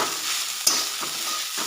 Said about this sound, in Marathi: थोडंसं मीठ आणि परतून घेते छानपैकी